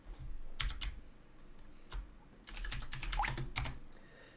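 Keys clatter in quick bursts on a computer keyboard as a network command is entered, several short clusters of crisp taps separated by brief pauses, close and fairly quiet with no voices.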